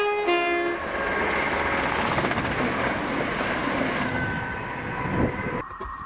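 A ScotRail train from Aberdeen to Edinburgh passes through Monifeith. A brief horn sounds at the start, then a loud, steady rumble of wheels and engine rolls by close and fades slightly toward the end.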